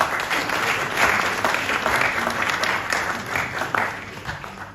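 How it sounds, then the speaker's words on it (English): An audience at the Parliament of Ghana launch of the 2025 Democracy Cup breaks into a round of applause, a dense, continuous clapping that swells and holds for several seconds. "let's give him a round of applause"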